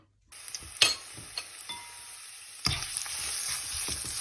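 Garlic and pork sizzle and crackle as they stir-fry in a hot pan. Steady frying hiss runs throughout, with scraping stir strokes and a louder burst of sizzling partway through, and no talking.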